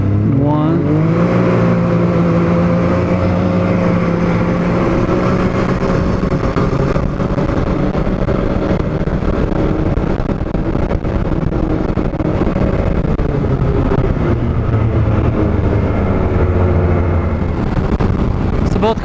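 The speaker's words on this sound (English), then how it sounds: "Both cars are pinned wide open right now." Two Polaris RZR off-road side-by-sides at full throttle on sand, their engines roaring loud and close in one continuous drone, pitch climbing as they accelerate, with a voice faintly audible beneath.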